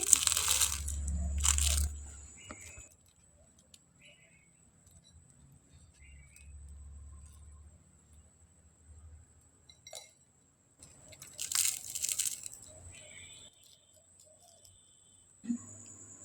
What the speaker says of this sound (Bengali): আমি আরেকটা পিঠা আপনাদের ভেঙে দেখিয়ে দিচ্ছি